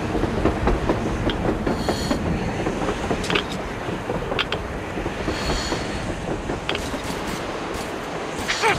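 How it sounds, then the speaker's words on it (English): In Metro Exodus, a surface train rumbles by with a heavy, rolling roar and steady clacking of wheels over rail joints, punctuated by brief metallic screeches. "A train! A damn train on the surface!"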